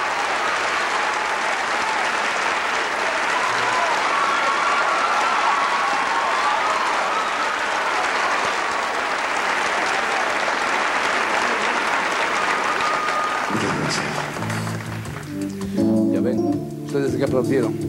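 Concert audience applauding loudly at a show, a dense, steady wash of clapping that holds for about thirteen seconds before music and a voice come in over the fading applause.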